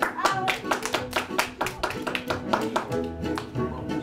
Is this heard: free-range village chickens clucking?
no